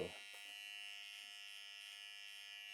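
An electric hair trimmer hums close and steady as it shaves an arm, a thin high-pitched buzz running evenly after a brief bump at the start.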